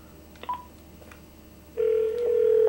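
Telephone dialing tones: a few faint, brief beeps at first, then a loud, steady tone starts partway through and continues to the end.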